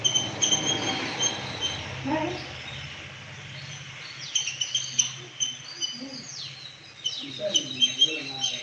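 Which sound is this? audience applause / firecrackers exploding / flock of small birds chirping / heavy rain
flock of small birds chirping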